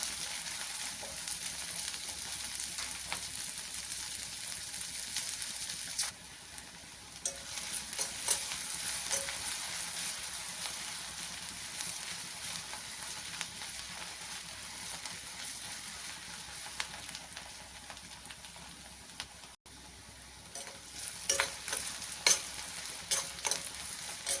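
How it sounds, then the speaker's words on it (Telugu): Onion pieces frying in a pan for a chana dal and mutton dish, a soft steady sizzle with light stirring scrapes now and then, fairly quiet and without voices. "ఉల్లిపాయ ముక్కలు వేసి బాగా వేయించుకుంటాం"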